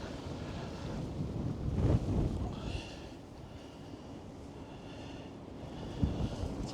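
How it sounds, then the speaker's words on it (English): Wind blowing at night on Blackpool seafront after a storm, a low buffeting rush that gusts against the microphone, heaviest near the start, with a second brief gust later. "the wind's blowing at me, but it's a very, very mild wind"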